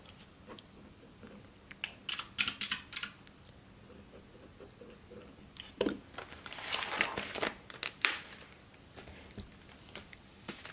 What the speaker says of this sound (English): I think I'm only going to stuff my fur baby's medication envelope